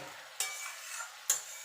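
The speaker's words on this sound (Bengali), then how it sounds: "এখানে আমি গরম জল দিচ্ছি" Hot water poured into frying spice paste for a Bengali tangra fish oil-jhal curry hisses in a steady sizzle, with two sharp bursts of spattering where the water hits the hot oil.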